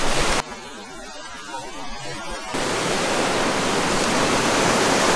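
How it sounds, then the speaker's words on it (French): A mountain waterfall in the Chartreuse massif roars as a steady broad hiss, briefly muffled and quieter for a couple of seconds before returning louder and constant. "En bas il y a le petit pont où on était tout à l'heure, la cascade juste en dessous, et là au-dessus il y a la deuxième cascade."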